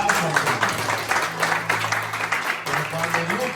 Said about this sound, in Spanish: Les aplauso.